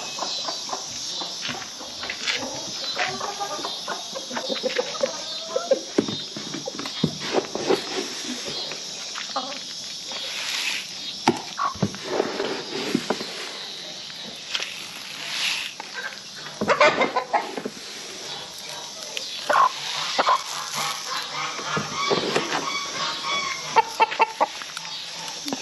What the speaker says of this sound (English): There's one of my other roosters.